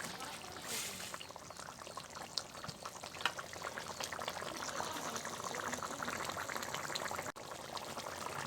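A rohu fish curry being stirred in a pan with chopped coriander leaves: a steady, close sizzle with soft scraping and stirring that runs throughout.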